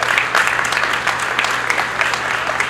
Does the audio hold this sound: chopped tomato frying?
no